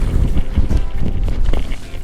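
Strong wind on Lake Sakakawea during a fishing outing buffets the microphone in a continuous loud, rough low rumble, with no pause for the short moment heard.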